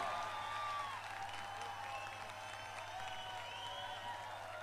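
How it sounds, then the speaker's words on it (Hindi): Audience applause at a worship concert welcoming a comedian-preacher to the stage. The sound is a steady, distant wash of clapping from a large crowd and holds fairly even throughout. "तालियों की गड़गड़ाहट के साथ उसे अपने दरमियान बुलाए हैं, भाई जॉनी लीवर।"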